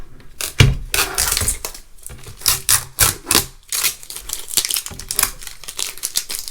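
Stickerbomb stickers peeling off a desk, a string of dry crackling, tearing and crinkling bursts with short pauses between pulls, close and fairly loud, with no talk.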